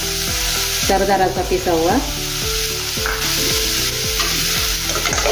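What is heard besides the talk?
ginger garlic frying and stirred with tomatoes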